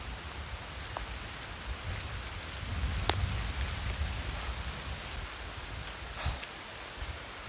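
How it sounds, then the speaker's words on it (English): Steady rain falls through a Panama jungle, a soft, even hiss on leaves and ground with a few brief drops and rustles standing out, no voices. "here it comes at last. The rain."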